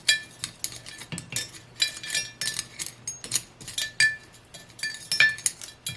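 Soil mix being stirred inside a small glass block terrarium, with a quick run of close, bright clinks and taps as the tool knocks against the glass walls, alone with no talk.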